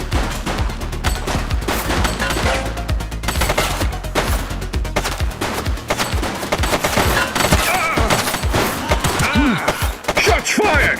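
Gunfire crackles through a police shootout in The Precinct video game, with loud, overlapping bursts and rapid volleys of shots, some heavy low thuds, and continuous firing that runs the whole time.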